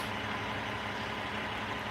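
A box truck backs in nearby, its engine giving a steady, dense rumble throughout with no voices.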